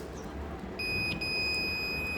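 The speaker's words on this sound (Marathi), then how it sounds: "तर ते त्यांनी डिटेक्ट केलं आणि इथे बझर वाजला" A landslide detector's steady high-pitched electronic buzzer tone switches on partway through as it detects rising water, and keeps sounding continuously over a low background hum.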